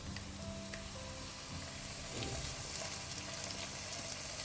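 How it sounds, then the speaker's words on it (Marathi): Ginger garlic paste fries in a hot pan, giving a steady close sizzle and crackle that swells briefly midway as it is stirred, with no voices. "और अब इसे ना 1 से 2 मिनट के लिए अच्छे से भून लेते हैं"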